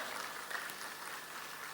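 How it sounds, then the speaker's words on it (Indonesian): An audience applauds steadily at a church gathering, a faint, even wash of clapping that holds from start to finish with no talk over it. "Berikan tepuk tangan ya mereka."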